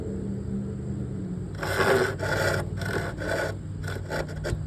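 Handsaw cutting through a piece of wood, several rasping back-and-forth strokes, then shorter quick strokes, close and fairly quiet with a low hum underneath.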